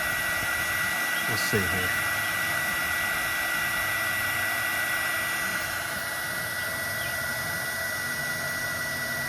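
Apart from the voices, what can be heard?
heat gun melting a solder sleeve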